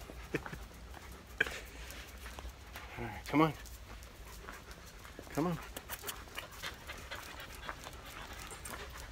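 A dog pants steadily nearby, a soft rapid breathy rasp running throughout, with a couple of short whines or vocal bursts and faint background noise.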